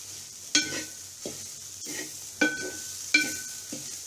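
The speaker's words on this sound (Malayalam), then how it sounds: "തേങ്ങ അടി പിടിക്കാതെ തന്നെ നല്ല ബ്രൗൺ കളറാവുന്ന വരെ ഇളക്കി തന്നെ വറുക്കണം." Grated coconut being stirred and roasted in a pan for chammanthi podi, with repeated scraping strokes of a spoon at an uneven rhythm over a faint dry sizzle.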